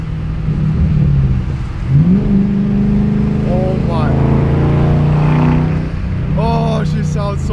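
Ford Mustang GT500 with a Flowmaster Outlaw exhaust accelerating hard through gears while driving, loud close engine roar rising in pitch with a gear change, a man exclaiming over it.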